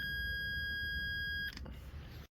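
A multimeter's continuity test sounds a steady high-pitched electronic beep while its probes touch the pins of a Citroen C5 heater blower motor, held for about one and a half seconds before stopping amid faint background noise.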